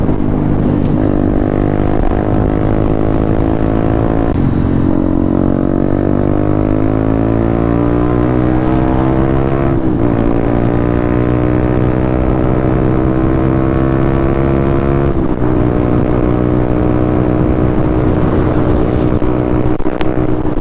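A Suzuki SV650 motorcycle rides on a clear late-December day. The engine drones loud and steady throughout, its pitch climbing through the gears with brief dips at each shift.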